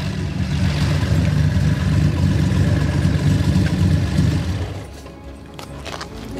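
A classic Nissan Z engine, a 2-litre L-type bored out to 2.6 litres and fitted with Solex 44 carburetors, idles with a loud, steady low rumble nearby, then is shut off.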